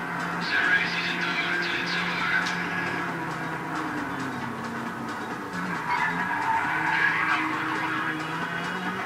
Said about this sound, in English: That's a good drift there.